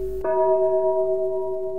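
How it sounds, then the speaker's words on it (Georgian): A church bell-tower bell rings with one loud strike that hums on in a steady, sustained tone, with no voices. "საგალობელს გავს სამრეკლოს ზარი"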